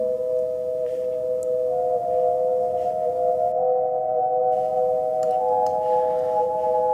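Sustained low, mellow tones with a reverberant, bell-like sustain, notes shifting pitch in a slow sequence, synthesized from a sampled pen tap with equalizer and reverb, played in lower octaves.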